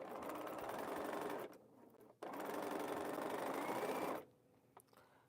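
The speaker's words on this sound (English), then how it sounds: "I just want to make sure it's sewing, you know." A sewing machine stitches a quilt in a steady, fast whirring run, stops briefly, then starts again for another couple of seconds before falling quiet. It is close and fairly loud.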